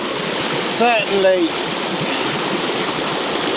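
Stream water flowing steadily on rainy Dartmoor, a continuous broadband rush heard close by, with a voice speaking briefly over it near the start.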